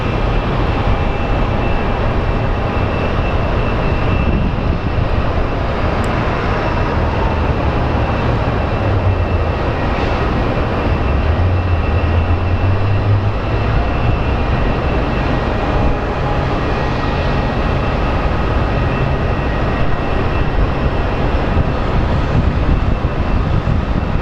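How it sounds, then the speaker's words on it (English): The American Airlines 710 airliner from Seattle lands at Phoenix Sky Harbor International Airport, with a continuous loud, broadband engine roar that holds steady for the whole stretch. "up next we do have American Airlines 710 coming in from Seattle"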